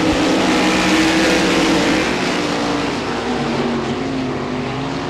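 RaceSaver sprint cars thundering around Devils Bowl Speedway, a loud, continuous multi-engine roar filling the whole stretch at close range with no talk.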